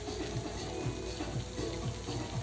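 Ripe yellow plantains fry in a pan, Jamaican style, giving a steady close sizzle with faint crackles throughout and no talking.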